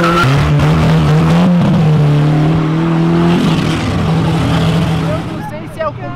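Two Opala cars slide sideways leaving an event, their engines roaring loud and revving hard while tires squeal through the skid, with a crowd's voices mixed underneath.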